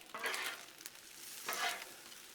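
Chicken alfredo sauce is stirred and scraped on a hot Blackstone griddle, two soft swishing sweeps over a faint background sizzle, close and quiet with no talking.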